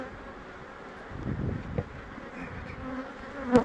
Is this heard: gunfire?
no